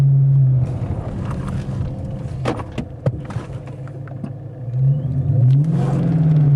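A car accelerating on a road up to about 40 mph ahead of a braking test, fitted with Power Stop brakes; a steady engine rumble rises in pitch at the start and again near the end, close and continuous with no talk.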